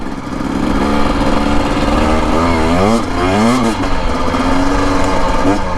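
A Husqvarna TE250 dirt bike rides desert trails, its engine loud and close with rising and falling revs as throttle changes, and a voice talks intermittently over the motor.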